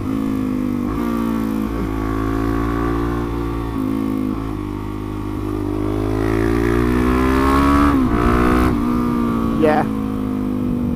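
A Suzuki DRZ400SM supermoto motorcycle is ridden, its single-cylinder engine droning and shifting pitch as it accelerates and rolls off, loud and close with wind noise, while a rider talks over it.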